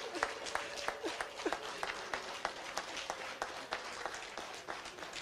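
Quiet, steady clapping from an audience at a Rwandan community convention in Ottawa, honouring Rwandan women. The claps are dense and even, with faint voices and possible ululation mixed in.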